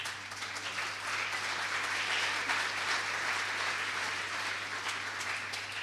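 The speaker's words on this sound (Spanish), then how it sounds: "un aplauso para ella" Sustained church congregation applause honoring a relative, a dense, even wash of many hands clapping at steady volume throughout, with no talk over it.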